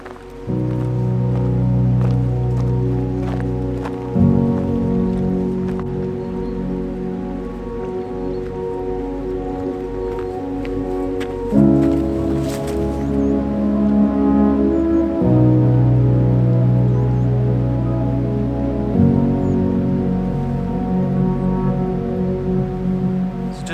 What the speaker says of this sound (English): Making our way down towards the waterfalls. You can probably hear them actually.